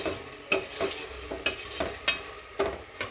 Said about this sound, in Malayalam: എന്നിട്ട് നന്നായി ഒന്ന് ഇളക്കി കൊടുത്ത് ഈ സവാള ഒന്ന് ജസ്റ്റ് ഒന്ന് ഒരു ഇതാവണം കേട്ടോ.